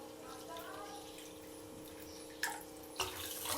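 Water pours steadily into a pan for suji halwa, a continuous rushing stream. Two brief metallic knocks sound toward the end.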